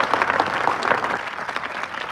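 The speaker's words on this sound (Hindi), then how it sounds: "इनके लिए तालियां बजाएं" An audience at a teachers' association gathering claps together in sustained, dense applause, loud and steady throughout.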